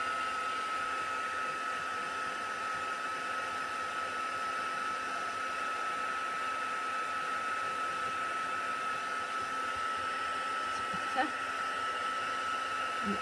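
A hair dryer blowing on a spring-themed craft piece, a constant close whooshing hum that holds steady throughout without pause.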